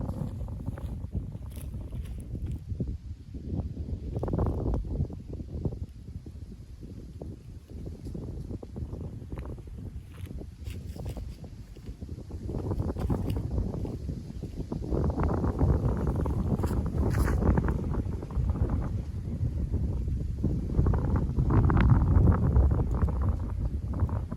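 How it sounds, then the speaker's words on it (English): Wind gusts across the microphone at a lakeside disc golf course, making a continuous low rumbling buffet that swells and eases over about twenty-four seconds. No voices are heard. "Wind's still kicking over the right shoulder."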